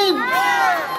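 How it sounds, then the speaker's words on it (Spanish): Wedding guests cheer for the newlyweds in a short burst of loud, close crowd shouting and whooping, with voices rising together over about a second. "Tres churras por los flamantes esposos César y Olinda."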